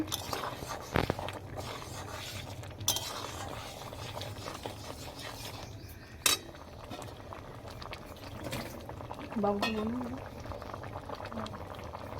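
Masoor lentils boiling in a covered pot, a steady low bubbling with occasional clinks and a brief clatter, while someone speaks intermittently over it.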